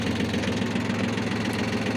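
A Yanmar YM1820 small tractor engine idles close by with an even, throbbing diesel chug and a slight knock, steady throughout with no voices.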